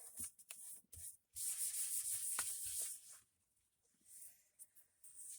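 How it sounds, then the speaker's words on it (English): Close, dry scratchy rubbing on an old file folder being spruced up as a craft project: a few quick strokes, then a steady two-second stretch of brisk rubbing, then lighter intermittent strokes, with no voices. "Rub that down really, really good."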